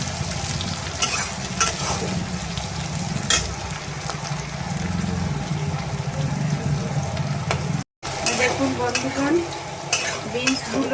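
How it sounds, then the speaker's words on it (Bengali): Mixed vegetables with capsicum and beans sizzle and fry in a pan as a spatula stirs and scrapes them, the crackle steady and close with sharp clinks of utensil on metal throughout. "সুন্দর লাল লাল করে ভেজে নিয়েছি।"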